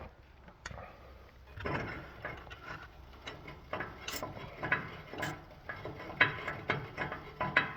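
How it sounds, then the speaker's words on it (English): A 3/8 drive ratchet tightens bolts during an installation, giving quiet irregular clicks and mechanical ticks in short bursts close by, with some handling clatter between them. "your average wrench or a 3/8 drive ratchet, and pull them down until they're tight"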